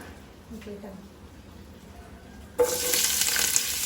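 Onion dropped into hot sunflower oil in a pan, a sudden bright sizzle bursting in near the end and holding steady after a quieter stretch of faint kitchen noise.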